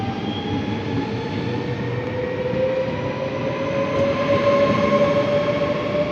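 Train pulling into 's-Hertogenbosch station, a loud steady rumble with sustained wheel squeal and whining tones sliding gradually as it slows, no voices.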